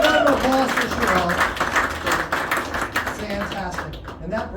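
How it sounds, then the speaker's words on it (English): Audience applause for a volunteer after a card trick at a live magic show in Nashville, dense and sustained clapping over a few seconds, loud and close, with a voice speaking over it. "round of applause for Sherelle"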